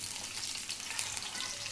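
Sliced onion hisses and sizzles in hot oil in a pan, a steady, fairly quiet frying noise with no voices.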